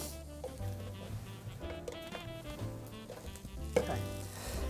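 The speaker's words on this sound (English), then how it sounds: "we're going to cook them for around 8 to 10 minutes until they're really cooked through, they're nice and caramelised" Portobello mushrooms fry in a pan with a steady, moderately quiet sizzle and crackle, broken by occasional stirring clatter, and no voices.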